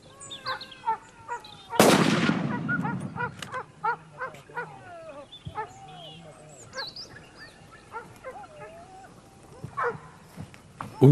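A single sharp gunshot at a wild boar on a driven hunt cracks loudly near the start and decays quickly, amid outdoor ambience with scattered dog barks and animal calls.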